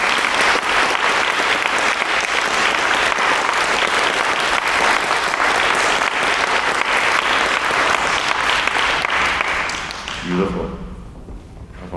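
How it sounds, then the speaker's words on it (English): Audience applause rings out at the close of a public piano trio masterclass, a sustained dense clapping from a large hall crowd that fades out near the end, followed by a few quiet low thumps. "皆様 もう一度先生と受講生の方に大きな拍手をお願いいたします"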